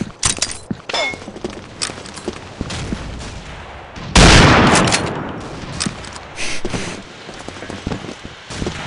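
Automatic weapon fire in the shooter Oil Rig, sharp rapid bursts and scattered shots with a loud close blast midway, followed by more intermittent gunfire and clatter.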